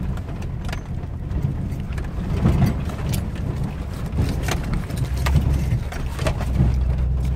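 A pickup truck drives along a rough dirt road through meadows on a long rural driveway, its steady low engine rumble overlaid with bumps and rattles, close and continuous with no talking.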